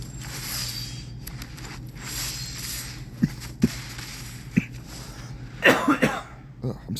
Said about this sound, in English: all of a sudden now I'm coughing